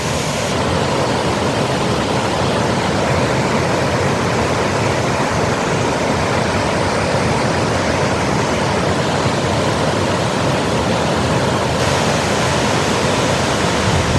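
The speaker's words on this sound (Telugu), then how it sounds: "గల్లగల్ల నీటి సవ్వడులు చూస్తూ ఉంటేనే ఆ పాల నురగలాంటి ఆ జలధారలు చూడండి" Water gushes over a weir like a waterfall, a loud, dense, continuous roar that stays steady throughout, with no voices.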